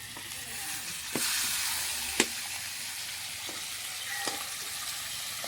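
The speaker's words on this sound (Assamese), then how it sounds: "মাছ ফ্রাই হয় এইভাবে করতেছে" Fish frying in hot oil for a traditional Assamese Bhogali Bihu meal gives a loud, steady close sizzle and crackle throughout, with a few sharp spits and pops breaking through.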